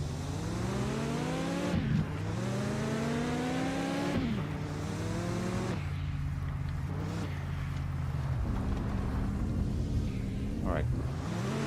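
A turbocharged car engine in Mon Bazou revs up repeatedly, rising in pitch through each gear and dropping at every shift, steady and close throughout, with someone talking over it.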